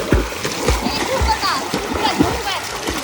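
Water splashes and churns at a private waterfall in Valparai as swimmers thrash about, a continuous splattering that sits under loud, excited talking.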